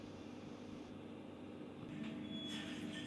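A train sits at a station getting ready to depart, giving a low steady rumble with faint mechanical squeals and hiss building slightly near the end, quiet and with no voices.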